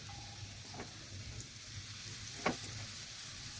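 Chicken kebab frying in a pan gives a steady, soft sizzle throughout, with a few light scrapes or stirring clicks and one brief louder crackle near the end.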